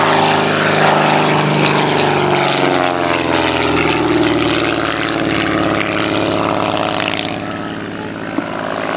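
A one-off propeller-driven fixed-wing army observation aeroplane flies past at the East Kirkby airshow, its engine and propeller roaring loud and close, then slowly fading as it moves away.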